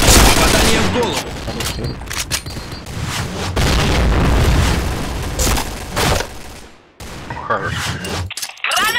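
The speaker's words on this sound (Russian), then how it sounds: "Граната!" In the Point Blank shooter game, grenade explosions boom amid rapid gunfire bursts, with loud crackling blasts, shattering hits and brief lulls, while players shout over the action.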